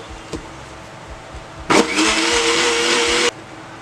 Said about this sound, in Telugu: ఒకసారి మళ్ళీ మిక్సీ పట్టుకోవాలి